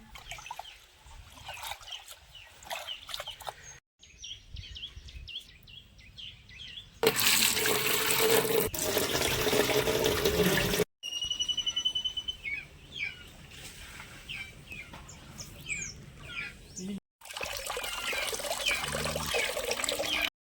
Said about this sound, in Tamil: அரிசியை கழுவி எடுத்துக்கிடுவோம்